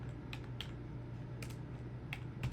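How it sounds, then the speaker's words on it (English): Someone types on a computer keyboard while coding, with scattered clusters of soft key clicks over a low steady background hum. "I don't know why I'm typing this again."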